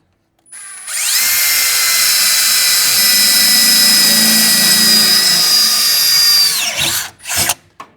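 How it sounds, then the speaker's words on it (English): Power drill boring into metal while enlarging holes during work on a 1972 Suburban, a loud steady high-pitched whine running about six seconds before winding down, with a couple of short bursts after. "let me drill them out to a bigger size"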